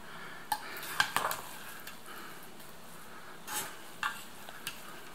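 Fluffy plov is scooped from a pot with a utensil, giving a few quiet scrapes and light clinks spread over several seconds against a faint background hiss.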